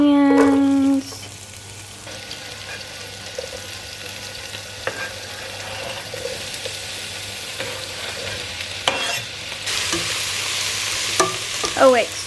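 Onions sizzle and hiss in a frying pan with occasional stirring and clinks, a steady moderate frying sound with a brief tone at the start.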